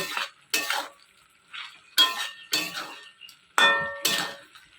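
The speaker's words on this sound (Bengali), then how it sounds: "এই যে সয়াবিনটা রান্না করছি দেখো" Soybean chunks stirred in a pan while cooking, a spoon scraping and clinking in about six distinct bursts separated by brief pauses, close and clear with no talk.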